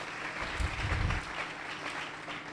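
A church congregation applauds together, close and steady for a few seconds, the clapping swelling briefly before it settles into a softer patter.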